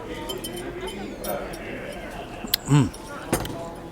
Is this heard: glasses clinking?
yes